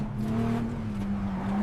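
A street racing car engine, AI-generated, drones steadily with a sustained tonal hum and faint rising revs, moderately quiet and alone without speech.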